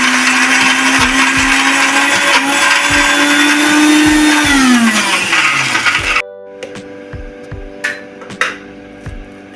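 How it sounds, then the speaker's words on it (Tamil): A mixer grinder coarsely grinds vada batter, roaring loudly and steadily for several seconds before its motor winds down and cuts off, followed by a few clinks and knocks. "இதை கொரன்னு அரைச்சி எடுத்துகிட்டு வந்துடலாம்"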